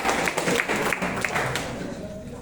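An audience claps for gold achievers at an award gathering, a fairly close burst of many hands with scattered sharper claps, tapering a little toward the end.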